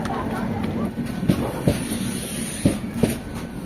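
A passenger train pulls away from Sangameshwar railway station in Konkan, with a steady rumble, a faint hiss and a few sharp wheel clicks spaced irregularly. Faint voices can be heard in the background.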